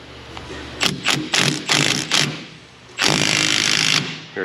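An impact wrench hammers a ball joint puller on a Ford F150 6.2 4x4 front end, firing in several short rattling bursts followed by one longer sustained burst, loud and close.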